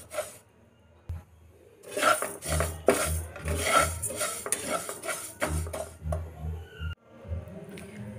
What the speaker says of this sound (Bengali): দিয়ে আমি মুগ ডালটাকে ভালো করে ভেজে নেব।